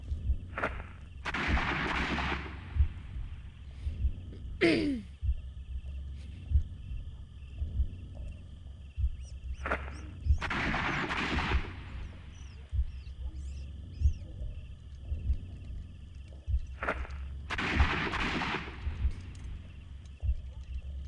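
Repeated gunshots in the Sherlock Holmes: Crimes and Punishments video game, with several loud, reverberant blasts spaced a few seconds apart over a steady low ambient hum.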